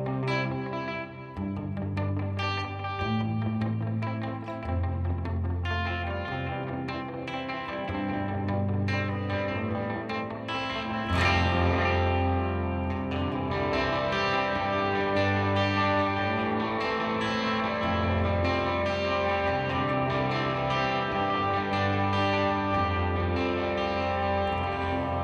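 An electric guitar plays chords and riffs drenched in delay and reverb, with echoing repeats blurring the notes into a wide, washy sound.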